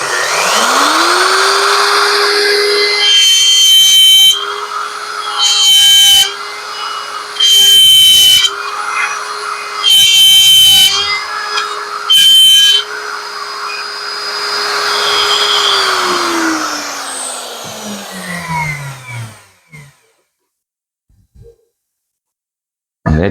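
A wood router cuts a tenon, its high motor whine holding steady while several loud cutting bursts come in repeated passes. The motor then winds down and falls silent.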